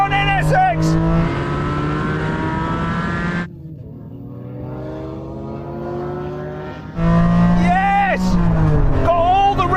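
A Honda NSX race car launches and accelerates hard, its loud engine rising steeply in pitch, easing briefly, then screaming upward again, close and continuous.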